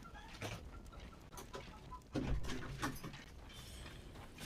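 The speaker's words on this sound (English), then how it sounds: "I think you might be hearing the chickens of the neighbors." Neighbors' chickens cluck faintly in the distance, a soft scatter of calls with no talk over them. Louder thumps and some background noise rise partway through.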